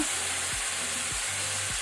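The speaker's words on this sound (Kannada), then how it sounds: "ಫ್ಲೇಮ್ ಮೀಡಿಯಮ್ ಅಲ್ಲಿ ಇಟ್ಕೊಂಡಿದ್ದನ್ನು ನಾವು ಫ್ರೈ ಮಾಡಬೇಕು" King fish, marinated and laid in hot coconut oil with curry leaves over a medium flame, frying with a steady close sizzle; three brief low thumps break the hiss at roughly even intervals.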